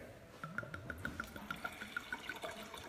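Shiloh Secret Reserve Cabernet Sauvignon flows from the bottle into a glass as a quiet trickle, with a rapid, regular series of small glugging pops that stay faint and close.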